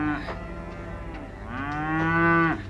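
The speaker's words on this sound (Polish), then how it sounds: "A tutaj odbywa się dojenie krów zautomatyzowane, dojarki." Cows mooing at an automated milking station on a farm, two drawn-out, tonal moos close by, the second longer and louder, over a low steady machinery hum.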